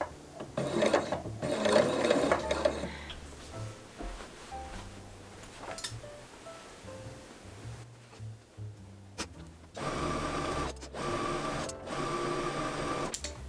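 Singer Quantum Stylist sewing machine stitching forward and back in a straight stitch on a dress strap, a busy mechanical whirring and clatter in bursts with brief pauses between runs.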